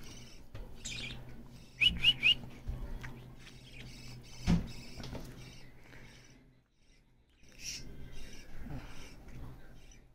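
Small high chirps from a pet bird chick come in a short burst of three early on, with a few faint peeps later, all under low room rumble and handling noise.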